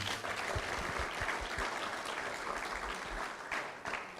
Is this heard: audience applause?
yes